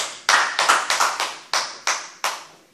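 A congregation bursts into applause acclaiming Jesus, a series of loud, sharp clapping bursts arriving in roughly even waves, each decaying before the next, with no talking.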